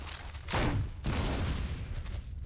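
Grenade fire in the survival horror game Resident Evil 1: a booming launch blast, then a second heavy burst with a long crackling tail, loud and close with no voices.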